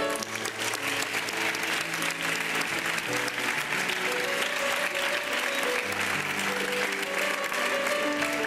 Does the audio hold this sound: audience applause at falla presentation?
yes